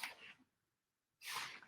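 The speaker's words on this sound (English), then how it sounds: "We did a sneeze demonstration with our vampire sneeze" Two sharp sneezes into an elbow, demonstrating a covered vampire-style sneeze, one at the start and another after a second of silence, close and fairly quiet.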